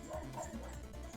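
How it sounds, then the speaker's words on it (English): A dog gives short yips and whimpering barks in the background indoors, brief and fairly faint against room noise. "Sorry if you hear Obi bark in the background."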